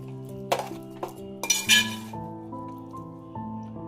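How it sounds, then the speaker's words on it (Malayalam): Chicken curry being mixed in a pot for a homestyle Kerala country-chicken perattu, with a few sharp clinks of a spoon against the pot over a quiet background, no talking. "നന്നായി നന്നായി നമുക്ക് ഇതിനെ മിക്സ് ചെയ്തെടുക്കാം"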